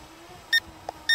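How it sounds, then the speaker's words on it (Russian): A Syma W1 brushless quadcopter emits two short, high electronic beeps about half a second apart as headless mode is switched on, with a faint click between them over a quiet background. "Все, будет пищать, соответственно."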